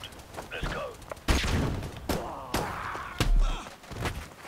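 Shotgun blasts in a military video game raid on a building: several heavy booming shots spaced a second or so apart, close and loud, mixed with thuds and a voice talking between them.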